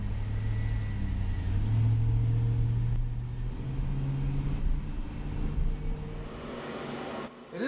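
A V8 all-wheel-drive commercial food truck driving on the road, a steady low engine rumble and road noise that fades near the end.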